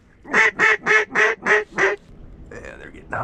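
A duck call blows six quick, evenly spaced nasal quacks aimed at mallards, loud and close, followed by faint talk outdoors.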